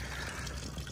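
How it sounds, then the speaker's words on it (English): A garden water fountain splashes steadily beside a sugar apple tree, a continuous soft gurgle and patter of falling water, faint and unbroken. "next to our very nice water fountain, which I like very much"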